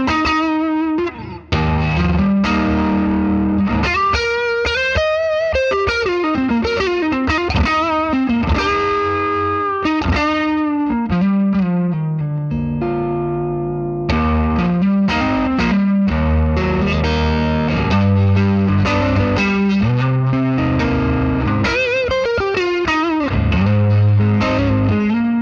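A pre-CBS 1961 Fender Stratocaster plays loud through an amp, a continuous riff and lead phrases for over twenty seconds, with sustained notes and a slight driven grit.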